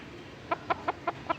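A chicken gives five short, evenly spaced clucks over a quiet background hum.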